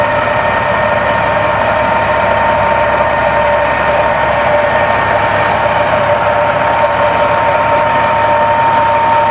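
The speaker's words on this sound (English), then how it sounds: "PTO and the hydraulics are powered by a 3406 Caterpillar diesel." A Norkot 9100 horizontal grinder runs on its Caterpillar 3406 diesel, a loud, unbroken engine drone with a steady whine and low rumble throughout, close by and with no talking.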